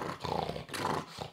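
A voice imitates a French bulldog, producing snorting, growly grunts in two short bursts, close and fairly loud.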